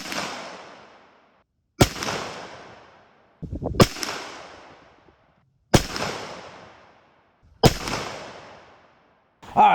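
Shotgun fitted with a Carlson's rifled choke fires five loud blasts, spaced about two seconds apart, each a sharp crack trailing off into a long echoing decay, with no voices.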